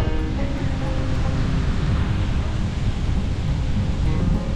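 Strong wind roars steadily and loudly, a continuous rushing noise with no voices.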